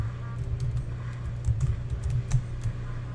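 Space bar on a computer keyboard pressed repeatedly in quick, irregular clicks, close and fairly crisp, with faint talk in the background.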